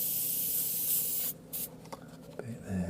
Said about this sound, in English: You can spray into this edge here